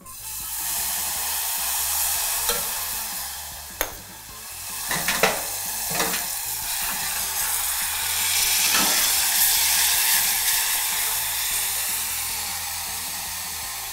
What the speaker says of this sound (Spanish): Ponemos un poquito de aceite. Vamos a agregar la cebolla.